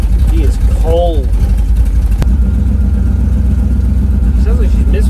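A cold, carbureted Bradley GT 2 car engine idles roughly with an uneven, stumbling misfire, running steadily throughout at close range while a person talks over it.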